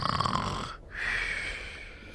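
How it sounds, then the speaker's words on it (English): A man snoring as a sound effect in The Charnel House Trilogy video game, two drawn-out snores split by a short pause, heard close and fairly quiet under a faint steady background hum. "He's snoring."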